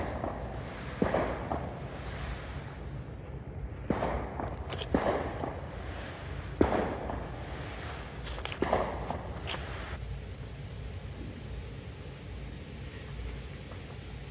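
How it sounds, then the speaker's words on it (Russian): Distant fireworks pop in scattered bursts, some in quick clusters, over quiet background hum in a residential neighbourhood in America. "Очень, очень тихо, кроме фейерверков."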